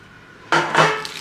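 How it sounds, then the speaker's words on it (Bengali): A metal wok holding fish wrapped in banana leaves is flipped onto a plate, giving a short clatter of metal against the dish followed by a second scraping clank, close and fairly loud with no talking. "এখন এখন এইভাবে উল্টাতে হবে। উপরে একটা থালা দিয়ে দেবেন"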